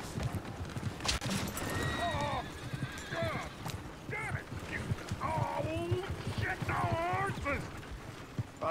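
Hooves clip-clopping alongside repeated horse whinnies and snorts, fairly close, with people talking in the background, in the video game Red Dead Redemption 2.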